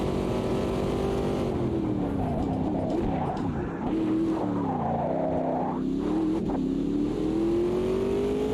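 GTE race car engine in the Automobilista 2 racing game, revving up and down through gear changes and braking, a continuous mid-loud drone rising and falling without any talk.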